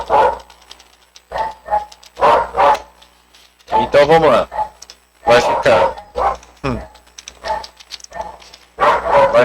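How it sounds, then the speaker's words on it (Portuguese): Dog barking in the background of a home math lesson, several sharp barks and yips scattered through the clip under and between a man's ongoing speech. "Olha o cachorro latindo."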